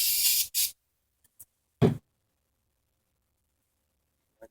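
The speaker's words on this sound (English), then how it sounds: "spray them off with some carb cleaner." Carb cleaner sprayed onto engine valves during a Honda Rancher ATV cylinder head rebuild, heard as two short close hissing bursts followed by a few faint clicks and a brief later spray burst.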